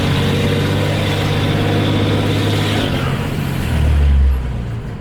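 A Cummins diesel truck with a five-inch straight pipe exhaust rumbles at a steady deep idle, then briefly swells louder near the end before settling back, close and without talk.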